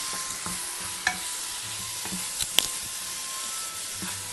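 Soybeans and tomatoes sautéing in oil for a soybean curry, a soft steady sizzle with a few scattered stirring clicks and scrapes, quiet and close.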